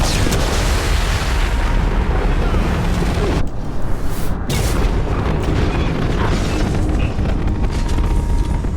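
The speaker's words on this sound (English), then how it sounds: "That's the explosion." A massive explosion in the video game Mass Effect 2 fills the clip with a loud, sustained rumbling roar and debris noise, broken by a brief dip before the blast noise resumes and rolls on to the end.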